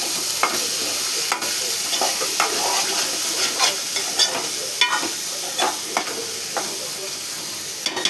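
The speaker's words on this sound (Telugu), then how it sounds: "అట్లా వేగినాక ఈ కందులు ఇందులో పోసుకోవాలి. వేసుకొని కొంచెం కలపాలి." Pigeon peas (kandulu) being stirred into a hot frying pan, giving a steady soft sizzle with scattered scraping stir strokes throughout, close and alone with no talk.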